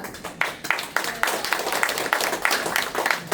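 Audience applause at a lecture hall talk, with distinct sharp claps rising out of a scattered clapping crowd, fairly near and even in rhythm.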